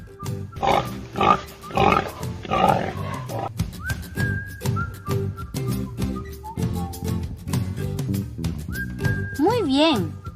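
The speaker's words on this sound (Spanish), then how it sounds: "Muy bien, es el chancho." A pig grunts in a few rough snorts at the start of an animal-sounds quiz for children, followed by light whistled music.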